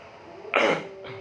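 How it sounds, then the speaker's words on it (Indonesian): A single cough bursts out about halfway through, followed by a softer breathy tail, close and fairly loud against a quiet room. "Maaf teman-teman, saya batuk."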